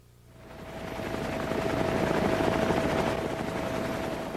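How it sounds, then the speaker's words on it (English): Military helicopters of the 101st Airborne Division flying over the Iraqi desert during the Gulf War make a dense, rapidly chopping rotor roar that swells in within half a second and holds loud and steady. "60 helicopters from the 101st Airborne Division leapfrogged 100 miles ahead, deep into the Iraqi desert"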